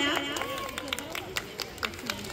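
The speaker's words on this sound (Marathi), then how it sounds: "स्वागत करते, जोरदार टाळ्या" Applause welcoming guests at a child's birthday party, with scattered claps rising over crowd chatter and children's voices, fairly close.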